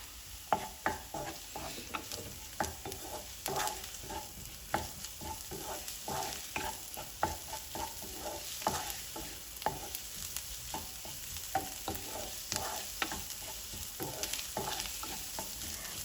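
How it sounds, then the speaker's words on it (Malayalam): Crushed garlic and ginger sautéing in a hot pan for fish curry, with a steady close sizzle broken by frequent scraping stirs, alone without talk. "ഞാൻ വെളുത്തുള്ളി ചതച്ചത് ഒരു ടീസ്പൂൺ ഇഞ്ചി ചതച്ചത് ഒരു ടീസ്പൂൺ ചേർത്ത് കൊടുത്തു ഇതും കൂടെ ഒന്ന് വഴറ്റി കിട്ടണം"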